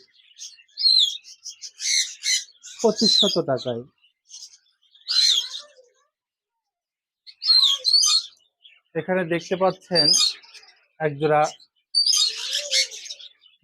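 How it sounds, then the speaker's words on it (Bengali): Small lutino budgerigars chirp and chatter in quick bright bursts, close by, while someone talks over and between the calls. "লুটিনো রেডায় বাজরিগার পাখি রয়েছে রানিং পেয়ার"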